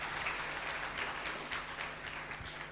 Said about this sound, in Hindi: इनके लिए तालियों से इनका स्वागत करिए।